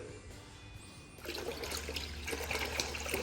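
Water pours into a container to be mixed with Rust-Oleum concrete etch for a garage floor, starting faint and turning into a steady, splashing gush after about a second.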